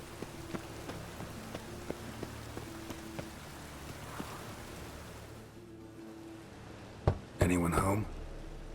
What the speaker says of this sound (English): It's raining, so yeah, I'd say it's probably rain.